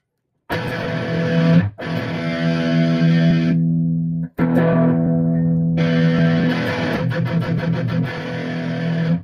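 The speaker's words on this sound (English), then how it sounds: "It's like an overdrive already" A loud electric guitar runs through a Boss GX-10 with distortion and overdrive in a hybrid rig with analog pedals, playing sustained, heavily saturated chords in several bursts separated by brief silences.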